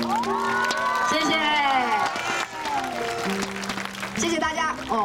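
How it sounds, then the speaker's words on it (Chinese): An audience applauds at a Mid-Autumn fireworks gala in Dadaocheng, Taipei, as a dense, steady wash of clapping and cheering running through the whole stretch, mixed under a singing voice and music. "谢谢你们的掌声。"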